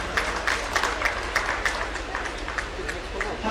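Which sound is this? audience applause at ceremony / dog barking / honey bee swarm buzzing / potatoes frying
audience applause at ceremony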